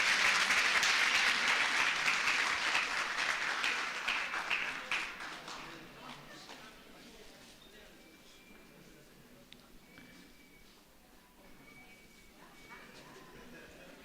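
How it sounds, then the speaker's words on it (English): Audience applause at a nurses' day event greets the second runner-up walking to the stage, loud and dense at first, then thinning and fading to scattered clapping under background chatter. "Can we give her a round of applause as she comes to the stage?"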